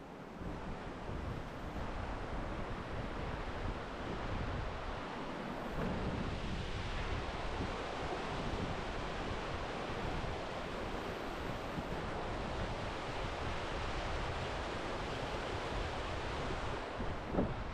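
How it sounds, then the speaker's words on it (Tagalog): A strong current of river water rushes beneath a bridge, a dense, unbroken roar with wind buffeting the microphone, steady and loud throughout. "Lakas ng agos ng tubig."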